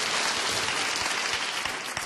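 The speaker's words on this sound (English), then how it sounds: "give her a round of applause" Steady, dense applause from a large studio audience at a dating show fills the whole stretch, loud and continuous with no voices on top.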